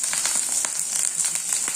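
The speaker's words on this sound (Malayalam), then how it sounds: "ഇനി നമുക്ക് ഇഞ്ചി, വെളുത്തുള്ളി, കറിവേപ്പിലയും കൂടെ ഒന്ന് വഴറ്റിയെടുക്കാം" Ginger, garlic and curry leaves sautéing in about two spoons of hot oil, a dense crackling sizzle with brief stirring scrapes, close and continuous.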